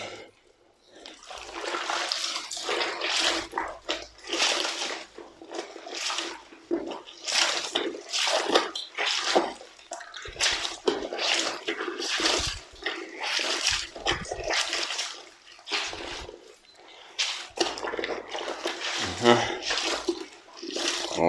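Clothes are hand washed in a tub of water, with repeated sloshing, splashing and wet scrubbing bursts in an irregular rhythm, close and fairly loud throughout.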